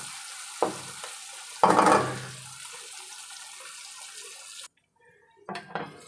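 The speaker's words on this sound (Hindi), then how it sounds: "इसको हमने सौते कर लेना है, लीड लगा देंगे और इसको हम नरम करेंगे।" Seeded tomatoes sauté in a covered pan for kaleji masala, giving a steady close sizzle broken by a couple of louder stirring bursts. The sizzle drops away abruptly, then brief clinks and scrapes follow.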